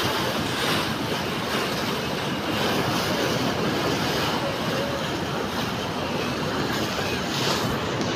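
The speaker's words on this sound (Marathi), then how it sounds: "हे माजलगावच्या दिशेने हे त्रिवेणी संगमचं पाणी स्पीडने जात" Fast-flowing river water rushing steadily where three rivers meet in flood, heading toward a dam; a loud, constant broadband roar with no breaks.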